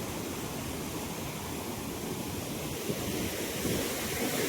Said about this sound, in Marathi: जे आपल्याला डॅमचं पाणी दिसलं होतं मागाशी ते पाणी इकडे येऊन पूर्णपणे त्या इथे येतं आणि सो हा फॉल तयार होतोय